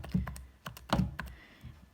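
Keys being tapped in short bursts while entering numbers into a calculator, a handful of quick, close clicks with uneven spacing and no talking.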